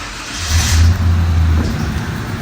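A 1994–96 Chevrolet Impala or Caprice engine idles with a low, steady rumble, swelling briefly louder as it revs before settling back to a constant hum.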